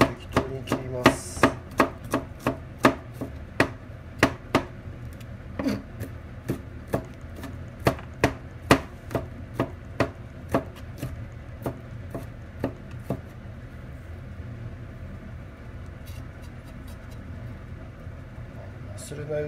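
A knife chopping ingredients on a board for homemade Taiwan minced meat for Taiwan ramen, with quick, evenly spaced, sharp close chops that thin out and stop toward the end.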